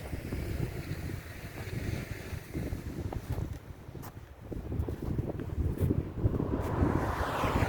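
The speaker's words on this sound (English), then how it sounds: "The wind is picking up, guys." Strong wind gusts through a Toronto snowstorm, a continuous rough rumble of microphone buffeting that rises and falls without pause, growing louder toward the end.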